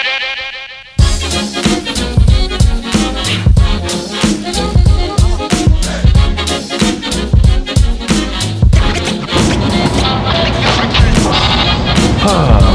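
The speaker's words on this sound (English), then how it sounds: "They're building a massive office building right there, so I pardon the construction noises." Loud, dense construction racket close by from a large office building going up, with repeated banging and clattering impacts over a continuous roar.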